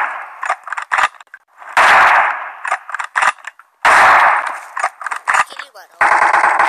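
Gunfire in PUBG Mobile comes as sharp rapid bursts of automatic fire, several short volleys and longer sprays separated by brief gaps, loud and close.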